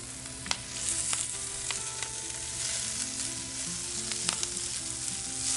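White mushrooms and mixed vegetables fry in oil in a Lodge Cook It All cast iron pan used as a wok, giving a steady loud sizzle with sharp snaps and pops throughout and no talk.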